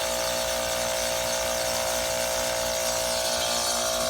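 A retrofitted AC compressor running as a pump and drawing suction gives a loud, continuous mechanical whine with a steady high-pitched squeal over hissing rush, unbroken and close.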